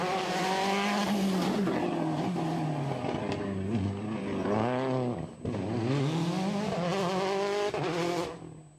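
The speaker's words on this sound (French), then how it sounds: "Mais la Ford Fiesta précède finalement la Citroën C4 d'Éric Rousset" A Ford Fiesta and a Citroën C4 rally car race on an Antibes rally stage, engines revving hard and loud with rising and falling pitch through gear changes, close up, then fading at the end.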